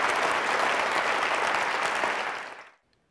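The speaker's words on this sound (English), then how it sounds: "I think we can applaud again." A lecture audience at the University of Washington gives a warm round of applause, a full, even wash of clapping that tapers off and fades into near silence at the end.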